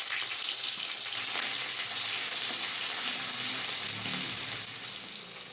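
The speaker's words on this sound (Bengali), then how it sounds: "ভালো করে মশলাটা কষিয়ে নেব" Spices, chopped tomato and ginger paste sizzle steadily in mustard oil in a wok, a continuous close hiss with faint stirring, no voices.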